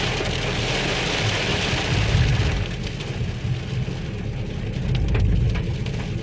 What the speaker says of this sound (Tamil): பயங்கரமான மழை. லைவோ ஆடியோவோட கேளுங்க.